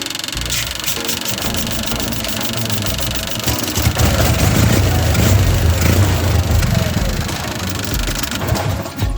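A small two-stroke engine running on 50:1 premix fuel sputters and revs loudly for several seconds with a rough, knocking rhythm, then cuts out and dies near the end.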